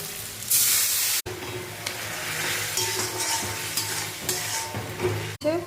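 Onions sizzle and fry in a pan for an aubergine and dried fish curry, a steady close hiss broken by stirring scrapes and a burst of spray.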